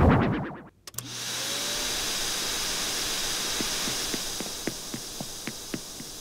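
After a click, a vacuum cleaner in Animal Crossing: New Horizons starts up with a loud, steady whirring hiss that runs continuously, dotted with faint regular ticks.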